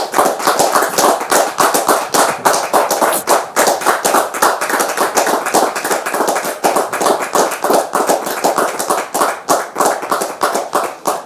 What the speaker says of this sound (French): Merci de la recevoir sous vos applaudissements